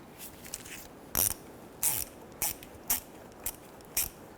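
A ratchet tightens a radiator hose clamp on a 2006-2010 Hummer H3 with a 3.7L engine, giving about six sharp, close clicking bursts at a steady rhythm with short pauses between them.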